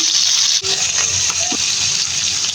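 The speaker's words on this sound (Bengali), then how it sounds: "এবার দিয়ে দিব চার কাপ পানি" Loud, close gush of water poured from a cup into a pot of browned fried chicken pieces for chicken soup, a continuous splashing rush with slight changes in tone as it fills.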